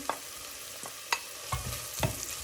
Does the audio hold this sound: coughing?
no